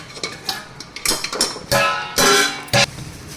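Flattened rice (atukulu) being stirred in a pan on low heat for a spicy mixture, close metallic clinks and scrapes of a spoon against the pan in uneven strokes, with no talking.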